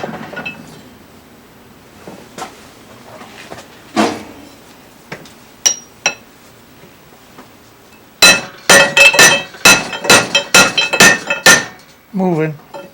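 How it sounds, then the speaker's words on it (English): A lead hammer knocks a bicycle gooseneck handlebar part out of a vise, first as a few scattered metallic taps, then as a rapid run of loud, sharp, ringing blows close by. "use a good old lead hammer to knock it"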